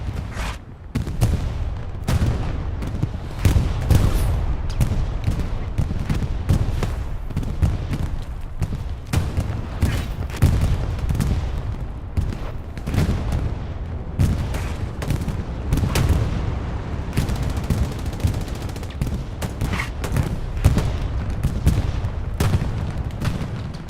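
An inbound Soviet bombing run over Stalingrad in Hell Let Loose, heard as a relentless barrage of overlapping explosions and gunfire cracks, loud and dense throughout, with rumbling booms mixed under sharp rapid reports.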